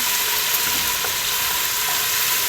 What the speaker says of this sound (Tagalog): Sunod na natin ang ating tomato paste. Ayan guys, mix na natin.